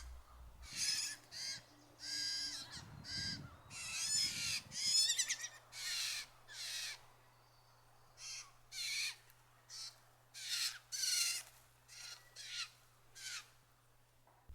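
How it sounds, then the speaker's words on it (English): Several young blue jay fledglings call back and forth in bursts of harsh, raspy squawks, some overlapping, spread irregularly over a quiet background with a faint low hum and no talking. "Watching the little jays bicker and play around together"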